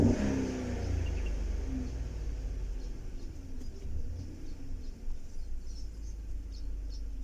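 A Chevrolet Tahoe engine with a cylinder 5 misfire, heard close as a low rumble that rises and then settles into an uneven, pulsing idle with slight stumbles, and no one talking.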